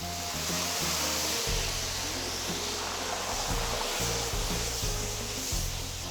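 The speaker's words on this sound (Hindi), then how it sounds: "अब इस मुकाम पे इसमें शामिल करेंगे 1 लीटर पानी" A litre of water pours into frying pulao masala for chana pulao, giving a steady, dense rushing hiss with a low rumble under it and no talking.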